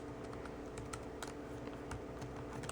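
Steady typing on the shallow-travel keyboard of a thin Samsung Series 9 NP900X3B notebook, quick soft key clicks in an irregular rhythm, close up, over a faint constant hum with no talk.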